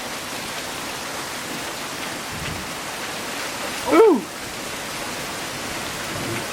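Rain falls steadily during a thunderstorm in Oro Valley near Canada del Oro Wash, a constant soft hiss throughout, with a brief exclaiming voice partway through.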